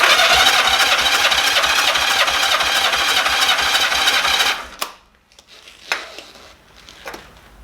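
A Honda Goldwing engine cranks on the starter at full throttle during a compression test, a loud, steady, rhythmic chugging for about four and a half seconds that stops abruptly, followed by a few faint clicks and handling noises.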